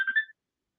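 A short electronic telephone tone sounds on a radio phone-in line, a loud burst of about a third of a second that cuts off into silence.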